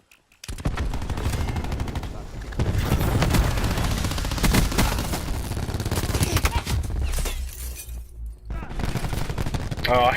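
Dense automatic gunfire from Call of Duty Black Ops 4 rattles almost nonstop, with bursts overlapping into heavy fusillades, a brief lull near the end before firing resumes, and talk faintly underneath.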